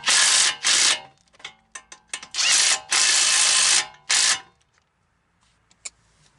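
Ratchet wrench clicking loudly and close as it tightens wheel bearing bolts on a 2014 Chrysler Town and Country, in several long bursts of fast ratcheting separated by short gaps with scattered lighter clicks and taps, then fading to near silence.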